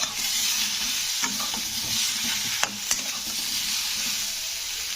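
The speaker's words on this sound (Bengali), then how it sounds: "এবারে এর মধ্যে 1 চামচ দিয়ে দিচ্ছি হলুদের গুঁড়ো, আর সামান্য একটু লঙ্কার গুঁড়ো দিয়ে একটু এই সবজিগুলোর সঙ্গে একটু নাড়াচাড়া করে নিতে হবে" Vegetables with turmeric and chilli powder stirred in a hot pan for a bitter neem curry, giving a loud continuous sizzle close by and a few scraping clicks of the spoon, with no voices.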